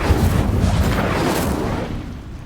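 In Hogwarts Legacy, the Incendio fire spell erupts as a loud, close, booming whoosh of flame that fades away over a couple of seconds.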